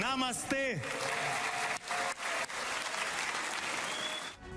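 Sustained applause in the Israeli parliament welcoming India's Prime Minister Modi, a dense steady roar of many hands, with shouted voices and cheers rising over it at the start.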